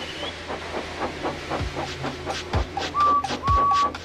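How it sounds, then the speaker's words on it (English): A steam engine chuffs in a steady rhythm with hissing bursts, then two sharp whistle toots ring out over the puffing. "So they lit his fire, made lots of steam, and Edward puffed away."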